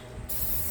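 One quick spritz of spray hisses onto a silicone baking pan for pumpkin brownie bites: a short, close burst that starts abruptly and lasts under a second.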